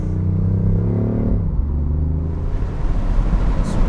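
A 2019 BMW i8 Roadster cruising on an open highway, with a steady low rumble and road roar that holds constant throughout, a faint engine hum fading early, no talk.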